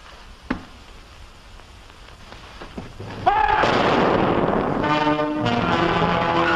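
A single sharp gunshot in a WWII interrogation scene, a brief crack early on. Later comes a loud, dense, rumbling burst with a ringing, tonal layer, like heavy fire or an explosion, over faint background.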